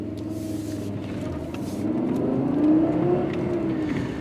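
Turbocharged Fiat car engine producing 220 brake horsepower, running with a steady low hum that swells and rises in pitch midway as it pulls, then settles, continuous and fairly close.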